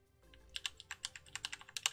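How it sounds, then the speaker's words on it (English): Computer keyboard arrow keys are tapped left and right in a quick, uneven series of about a dozen crisp clicks, close and fairly quiet, with no talking. "you press just the arrow keys left and right, and you can go one frame at a time"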